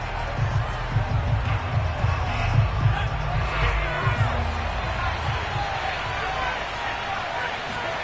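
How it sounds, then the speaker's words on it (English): A stadium crowd in the Madden football video game keeps up a steady, dense roar of shouting throughout, with a loud, continuous rumble and no clear pauses. "Plenty of shouts from this crowd as they watch the replay."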